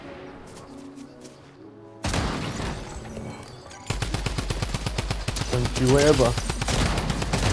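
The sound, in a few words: gunfire in the video game Fortnite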